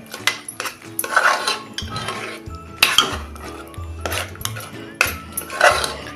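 Masala for a Kolhapuri mutton curry stir-fried in a pan, with a spoon repeatedly scraping and clanking against the metal in close, loud bursts and steady stirring rhythm.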